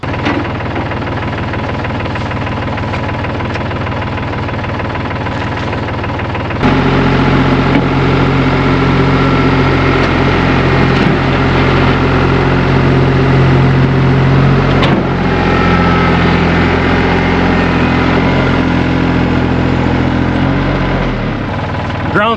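A tractor engine runs loud and close with a steady low drone while fence posts are pushed into soft pasture ground, stepping up abruptly in power partway through and holding a heavy, even throb.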